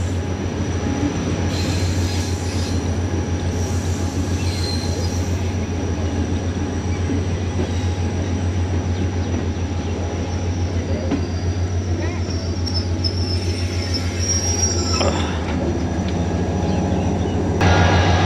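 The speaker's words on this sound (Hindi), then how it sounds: "अब हज़ारा एक्सप्रेस का स्टॉप है टंडो आदम पर" The Hazara Express slows into Tando Adam station in Sindh, its wheels rumbling steadily on the rails with a low engine hum and squealing brakes toward the end, while voices murmur faintly in the background.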